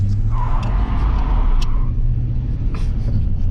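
A Buick Electra, running rough, revs hard and burns its tires, a loud continuous engine rumble and roar close by with faint tire squeal above it.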